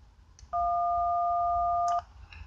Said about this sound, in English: a DTMF generator online, actually, at OnlineToneGenerator.com, and if we go over here and we press 1